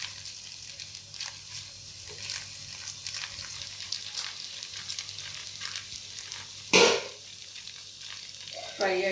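Rice with paneer fries in a pan, a steady close sizzle with stirring scrapes throughout and one louder burst of hiss partway through; no talking.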